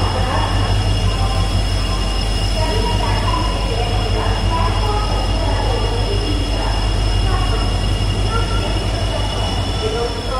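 A WDG3A diesel locomotive runs on the track at Narasapur railway station, its engine a loud steady drone with grinding wheel and rail noise throughout, close by, while someone talks over it.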